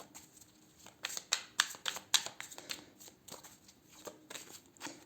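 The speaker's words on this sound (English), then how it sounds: "I already gave all these cards a shuffle, but I'm just gonna give them a small extra round" Soft, quick riffles and flicks of tarot cards being shuffled, a run of crisp papery bursts, moderately close and fairly quiet, with no talking.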